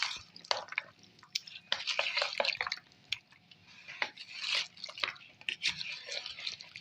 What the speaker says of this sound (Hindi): अब हम अपने लीमू निचोड़ लेते हैं।